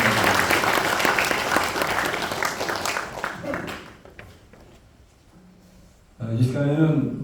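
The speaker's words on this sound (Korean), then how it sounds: "다 같이 한번 박수 한번 치고 시작하겠습니다" An audience at a book launch claps together in a loud, dense burst that gradually thins out into a few scattered claps before a voice starts speaking.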